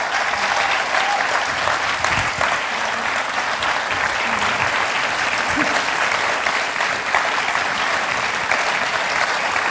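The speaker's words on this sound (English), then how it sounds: "Let's give them a round of applause" Steady, dense applause from an audience at an innovators' pitch showcase as the presenters gather for a bow, loud and continuous for the whole stretch with scattered individual claps standing out.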